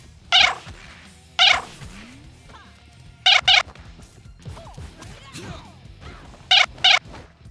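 Several loud, short cat meows in close pairs and singles from the video game Power Rangers: Battle for the Grid, standing out over a busy, low background of game sounds.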